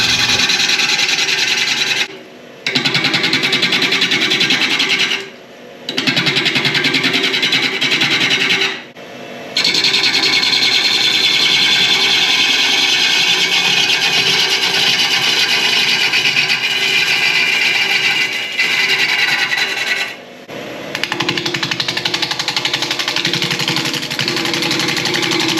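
A wood lathe spins a natural edge bowl on a spur drive, giving a loud, continuous rasping whir that drops out briefly a few times before resuming.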